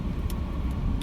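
A lifted GMC 1500 4x4 crew cab truck drives down the road, heard from inside as a steady low engine and road rumble with tire noise, no talking.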